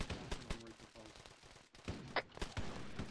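Scattered gunfire in a video game, quiet irregular sharp shots with brief pauses, heard faintly under a player's voice.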